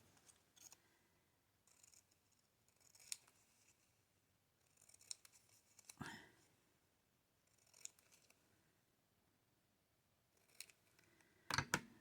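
Scissors fussy cut around a stamped paper image for papercraft, soft close snips arriving in quiet, irregular bursts with pauses between, no talking.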